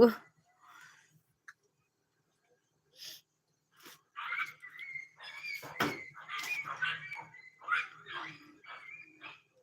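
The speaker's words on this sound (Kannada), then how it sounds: "ನಾಯಿಗಳು ಕೊಯ್ ಕೊಯ್ ಮಾಡಕ್" Dogs whimper and whine in high, wavering cries, some brief yelps mixed in, with a person talking nearby.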